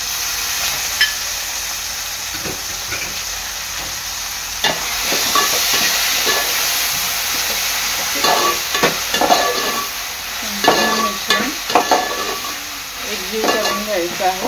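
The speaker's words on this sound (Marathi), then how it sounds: "कांदा, टोमॅटो आणि अद्रक लसूणची पेस्ट चांगली शिजत आले" Onion, tomato and ginger-garlic paste fry in a pan for a prawn rice dish, with a steady sizzle broken by repeated scraping and stirring strokes close by, and no talk over it.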